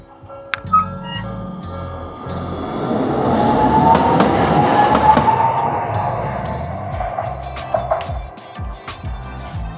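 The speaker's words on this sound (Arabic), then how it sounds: "هذا هو أقدم ترام هنا في طوكيو." A Tokyo Sakura Tram on the Arakawa line, the oldest tram in Tokyo, rolls past with rail rumble and wheel clatter that swells to a loud peak midway, then fades, with sharp clicks near the start and end.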